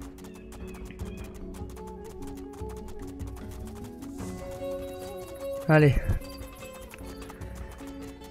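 Horse hooves clip-clop in the video game Two Worlds II, a steady trotting patter under game music, with someone talking over it and a brief louder cry near the end.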